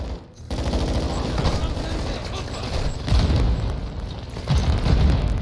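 Gunfire and grenade blasts during a mission in the video game DMZ: sustained rattling shots and booming bursts, with heavier hits partway through and near the end, loud and dense throughout.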